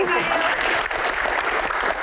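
An audience applauds during a question-and-answer session on disaster response, a continuous dense patter of clapping with voices talking over it throughout.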